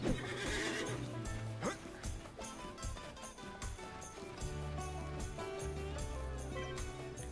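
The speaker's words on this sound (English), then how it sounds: "Find the thundering stallion in the dark of night." In the Disney Infinity Lone Ranger video game, a stallion gives a loud neigh and whinny over clip-clopping hooves, set against steady game music at night.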